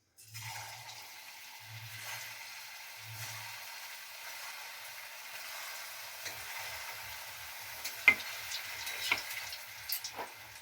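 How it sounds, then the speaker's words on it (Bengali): Banana and milk sweets fry in hot oil over a lowered gas flame, giving a soft, steady sizzle with a few dull knocks early on and sharper pops and crackles toward the end. "এবারে তেলের মধ্যে ভেজে নেব"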